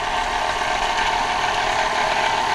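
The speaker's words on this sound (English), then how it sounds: "Instead of using a pastry blender and doing it by hand, I'm being super efficient and using my KitchenAid" A KitchenAid stand mixer stirs scone dough for pear scones, its motor giving a steady, loud, unbroken whirring hum with no pauses or voices.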